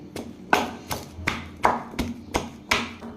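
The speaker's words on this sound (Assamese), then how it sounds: "এতিয়া মই বগৰী দুটামান খুন্দি ল'ম" Indian jujube (bogori) fruits pounded for an Assamese fish curry: eight sharp, evenly spaced thuds at a steady rhythm, close and fairly loud, with no talking.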